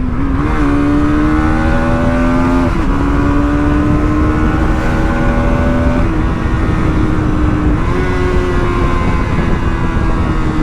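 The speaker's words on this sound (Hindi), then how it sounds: "आपको सुनाई दिया एग्जॉस्ट का साउंड? तो इतना ज़बरदस्त एग्जॉस्ट का साउंड आता है।" A 2024 Bajaj Pulsar NS 200 motorcycle's exhaust revs hard at high RPM, with loud rising and falling engine pitch sweeps in repeated bursts, close and continuous.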